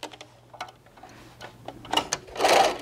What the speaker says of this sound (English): I'm just going to back stitch a little bit